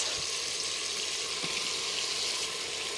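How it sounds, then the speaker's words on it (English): Onions and mushrooms sauté in oil for chicken cacciatore, giving a steady, dense sizzle that holds evenly throughout with a few faint low knocks underneath and no voices. "and saute that for another couple of minutes"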